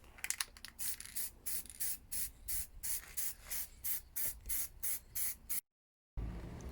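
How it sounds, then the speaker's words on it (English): Spray painting in a spraying booth, with short repeated bursts of hissing spray in a steady on-off rhythm, close and fairly loud, ending in a brief silence before one more burst. "Back to the spraying booth."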